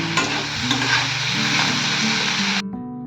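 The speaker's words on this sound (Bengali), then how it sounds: "তো এর মধ্যে আমি ভেজে চিংড়ি মাছটা দিয়ে দেবো, আর এটাকে একটু ভালোভাবে ভাজবো" Prawns frying in a pan for a lau chingri dish, a loud close sizzle with stirring scrapes that runs steadily and cuts off abruptly near the end.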